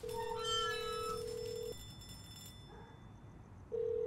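Phone ringing inside a house in the Hello Neighbor video game: a steady electronic ring tone sounds for under two seconds, then cuts off, with a short second burst near the end over a low ambient hum.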